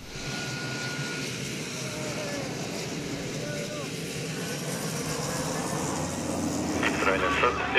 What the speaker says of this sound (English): Here is their national display team, Krila Oluje, flying six of these aircraft.